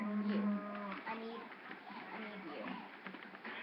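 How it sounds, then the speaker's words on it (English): Cows in a village low in a couple of moos, one drawn-out call at the start and a quieter one after, with a person talking in between. "look at all these cows"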